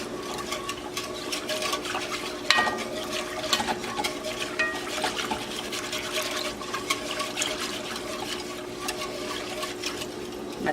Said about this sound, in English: And whisk up that roux, break it all up in there.